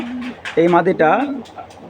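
A racing pigeon gives a short, close cooing call, a few throaty rolling coos lasting under two seconds.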